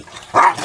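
A dog gives a single short, sharp bark indoors, brief and fairly close, with no talking.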